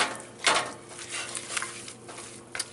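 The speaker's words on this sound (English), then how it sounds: "I'm going to mix this all up" Sauerkraut ball mixture being stirred with breadcrumbs, seasonings and mustard, giving soft, wet, squelching scrapes in a bowl, with a few louder stirring strokes standing alone at close range.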